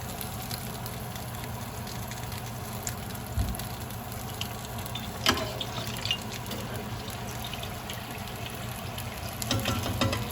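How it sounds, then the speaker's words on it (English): Meatloaf burgers rolled with cheese fry in a pan, giving a steady, dense hiss and crackle that runs unbroken throughout, with a few faint utensil taps over it. "frying the cheese that was rolled into that meatloaf from the beginning"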